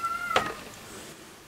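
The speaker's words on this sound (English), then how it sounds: "Talking about the cat, there she is now." A senile house cat gives a single short, sharp meow that stands out briefly against a quiet indoor background, then fades into soft room noise.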